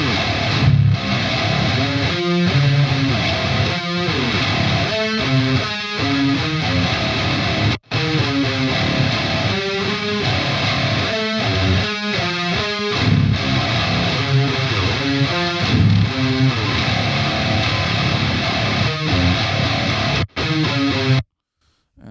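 Heavily distorted rhythm guitar in a djent tone, with identical settings on the left and right tracks, played soloed without the rest of the mix: loud, dense, chugging rhythmic riffs with syncopated stops and a brief gap near the end.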